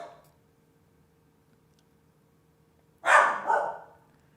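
A dog barks indoors at neighbors, a short loud burst of two or three quick barks after several seconds of near silence, fairly close.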